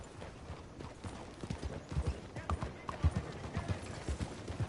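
Hooves of a horse in Red Dead Redemption 2 clip-clop in a steady walking rhythm, soft and somewhat distant, over a faint murmuring background.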